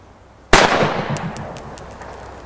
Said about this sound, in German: Und jetzt zweiter Schuss mit der P22.